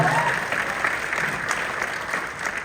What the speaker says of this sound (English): much like you're all applauding for the event